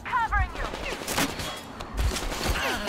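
Gunfire in Metro Exodus comes as a few loud bursts of shots mixed with game effects and brief whooshing sounds.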